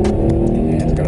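A 2013 Hyundai Genesis Coupe R-Spec engine, paired with a six-speed manual, revs loudly and close by in one brief, throaty burst that holds steady for about a second.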